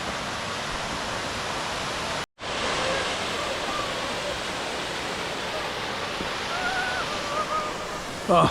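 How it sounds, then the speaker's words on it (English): A waterfall beside the climbing path up Scafell Pike roars as a steady, loud broadband rush, briefly cut off once, with faint voices near the end. "you follow the waterfall all the way up"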